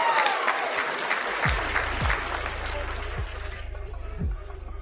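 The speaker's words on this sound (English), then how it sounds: "Give her a round of applause, please," Applause from a small group during an online talk, a dense patter of claps that fades slightly, with low thumping knocks and rumble underneath.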